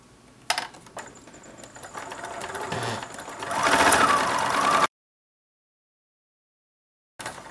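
A sewing machine with a 1/4 inch piecing foot stitches quilt fabric in a steady, rising mechanical whir that builds over a few seconds, stops abruptly, then briefly restarts near the end.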